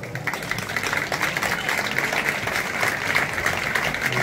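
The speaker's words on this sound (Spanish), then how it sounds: "Un aplauso para Juanjo Luque" Audience at a flamenco night applauding artist Juanjo Luque, steady dense clapping from a crowd filling the room without pause.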